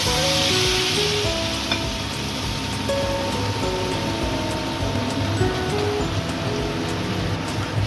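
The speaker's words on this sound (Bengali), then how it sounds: "সর্ষে আর পোস্ত মিক্সিতে বেটে রেখেছি এটা দিয়ে দিচ্ছি" Hot oil sizzles steadily and loudly in a pan after a ground mustard and poppy seed paste goes in, a dense crackle that continues without pause.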